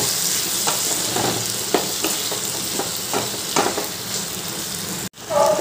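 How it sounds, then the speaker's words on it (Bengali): Vegetables with ginger garlic paste fry in a pan, a continuous sizzle broken by scraping stirs of a spatula at irregular intervals, ending with a brief clatter. "এবার দিয়ে দিলাম 1 চামচ আদা রসুনের পেস্ট। এবার সব কিছু ভালো করে কষিয়ে নেব।"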